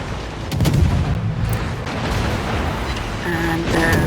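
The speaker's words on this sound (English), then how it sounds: "the secondaries of the Massachusetts were about to shoot me" Secondary guns of the battleship Massachusetts firing in the naval combat game World of Warships, a steady barrage of booming shots rolling over one another, loud and close, with a brief tonal game sound near the end.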